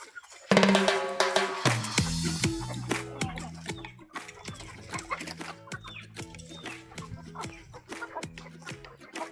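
Native country chickens, a dense flock kept indoors on a farm, cluck in short, busy bursts throughout, close by with overlapping calls and scratchy background noise.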